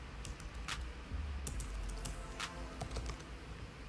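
Fast, steady typing of code on a computer keyboard, close and quiet, with irregular bursts of sharp key clicks and a few louder taps, no talking.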